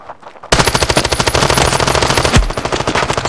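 Automatic gunfire in the mobile shooter game Standoff 2, a loud continuous rapid burst of rattling shots that starts abruptly and runs without pause, with no talk over it.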